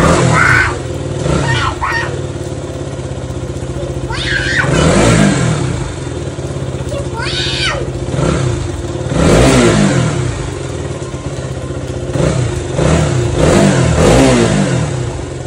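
A car or motorcycle engine starting and revving outdoors during rain, with several rising vroom surges that swell and fade over a steady engine drone, and voices talking faintly underneath.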